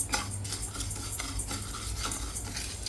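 Moong dal is dry-roasted in a kadai, and a spoon scrapes and stirs in quiet, repeated strokes with a low steady hum underneath.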